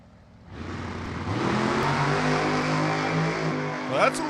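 Super Comp drag race car at an NHRA divisional race starting up and running down the track, a loud sustained engine roar building after a quiet start and holding steady, with faint announcer voice.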